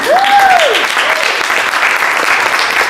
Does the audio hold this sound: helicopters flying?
no